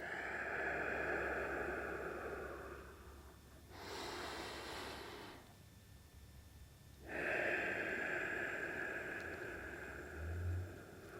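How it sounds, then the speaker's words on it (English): Someone doing a golf fitness exercise with a ball takes slow, deep breaths close to the microphone, two long airy inhale and exhale surges separated by a quieter pause, with no speech. "Take a deep breath, and then push that ball away."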